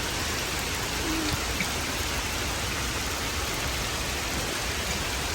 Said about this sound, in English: So we're out and about, walking the rainforest in the rain.